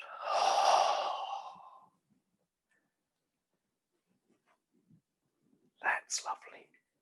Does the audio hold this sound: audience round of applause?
no